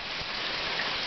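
Light rain sprinkling steadily at night, a soft continuous patter of droplets on surfaces with no voices over it.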